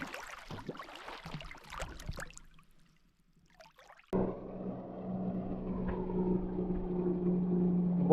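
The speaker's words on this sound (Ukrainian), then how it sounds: "Водний мотоцикл з десною швидко, звісно, пересувається проти течії, як автомобіль прямо летить" After a quiet stretch, a loud jet ski motor suddenly roars in close by and holds steady with a rushing, splashing wash of water as it speeds upstream on the Desna River.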